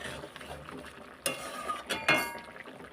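Mango sour curry with mustard oil, sweet potato, pumpkin and small rohu fish being stirred in a pot, with quiet scraping and a few sharper clinks of a utensil against the metal.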